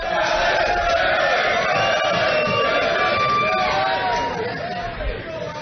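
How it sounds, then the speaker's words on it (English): A fight-night crowd roars and cheers steadily throughout, a dense wash of voices and shouts with speech mixed in, fading only slightly near the end. "but listen to that crowd, Billy."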